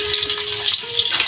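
Chopped onions, three of them, sizzle in hot oil in a home village-style kitchen while cooking a jackfruit curry, a steady broadband hiss with a faint tonal hum, close and continuous, no voices.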